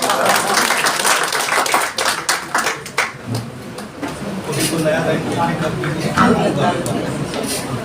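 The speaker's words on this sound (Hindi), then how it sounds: "जोरदार ताली।" Sustained clapping from an audience at a poetry gathering in Jammu, a dense wash of many hands that swells and ebbs for several seconds, with a few voices mixed in.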